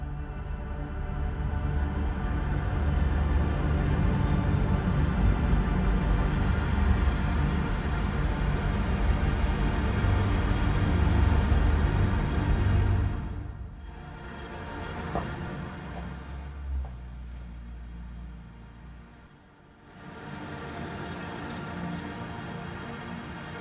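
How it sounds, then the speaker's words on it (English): A String Shades Kinetic string library preset played with its character slider on flickers and apocalypse articulations, a dense, loud sustained wash with low rumble that drops away, swells back briefly, then returns more softly. "On the character slider, we have flickers and apocalypse, and we have something that sounds like this."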